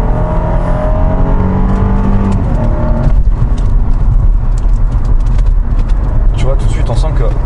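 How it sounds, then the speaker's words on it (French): A Cadillac STS with a four-speed automatic gearbox accelerates hard at full throttle, its loud engine note rising and then settling into a steady roar, with someone talking over it. "Si je mets pied planche."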